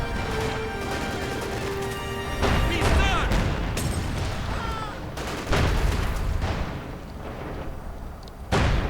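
Machine gun fire in a Company of Heroes World War II strategy match, mixed with bursts of gunfire, crashes and booms throughout a loud battle soundscape, with a commentator talking over it.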